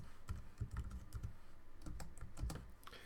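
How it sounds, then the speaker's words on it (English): Someone types on a computer keyboard, with quick irregular clusters of close, soft clicking keystrokes over a few seconds, heard alone without talk. "whatever we type at the keyboard"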